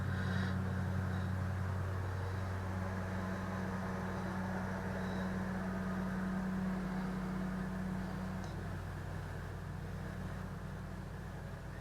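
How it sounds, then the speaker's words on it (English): A lawn mower runs outside as a steady, muffled, distant engine drone that continues faintly throughout. "someone is mowing the lawn outside."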